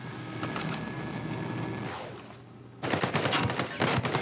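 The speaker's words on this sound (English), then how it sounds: "the rate of fire on the M4 is so nice" Automatic M4 rifle fire in Ghost Recon Breakpoint during a Gargoyle raid boss fight: a muffled stretch of battle noise, then loud rapid bursts of shots that crackle densely near the end.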